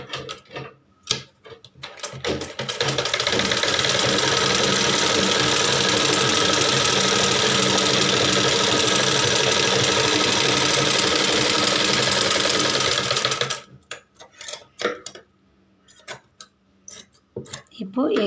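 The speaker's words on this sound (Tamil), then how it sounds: "இப்போ சுற்றி ஒரு தையல் போட்டுக்கோங்க." Sewing machine running steadily as it stitches around blouse fabric, a loud continuous whir lasting about eleven seconds, framed by scattered handling clicks and taps before and after.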